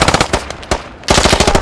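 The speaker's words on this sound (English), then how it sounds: "He just shot all of you in the back because no one else was watching the corner." Rapid bursts of automatic gunfire from a squad-based compound defense video game, loud and close, with a short pause in the middle before another dense volley.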